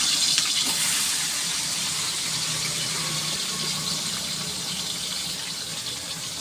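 Chopped large onions sizzle steadily in hot oil for a mutton biryani, a loud, close, continuous hiss with no pauses and no voices.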